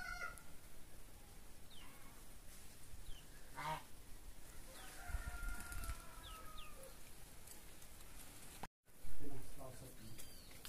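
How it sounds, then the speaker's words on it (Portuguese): Chickens on a rural farm eat feed while giving scattered soft clucks and short calls, fairly faint against a quiet outdoor background, with a brief dropout near the end. "E as galinhas tudo aqui comendo ração."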